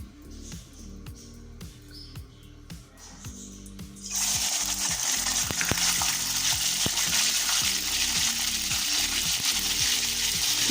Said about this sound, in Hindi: तो अब सबसे पहले हम चिकन को इसमें अच्छी तरह से फ्राई कर लेंगे।